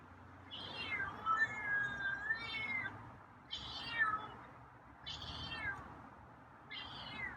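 A feral cat meows four times in a row, close and fairly loud, each call rising and falling, with short pauses between them.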